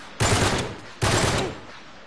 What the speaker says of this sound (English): I'm firing wildly and hoping... The bullets connect with someone!